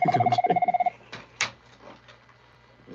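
A telephone ringing sound effect: a bright, rapid trilling bell that rings loudly for under a second, then cuts off, followed by a few faint knocks.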